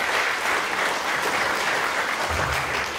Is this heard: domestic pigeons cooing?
no